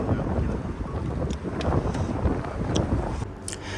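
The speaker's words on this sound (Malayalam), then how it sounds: "നല്ല കാറ്റുണ്ടായിരുന്നു." Strong wind gusting outdoors near water, a steady loud rush with buffeting across the microphone throughout, carrying on without any talk.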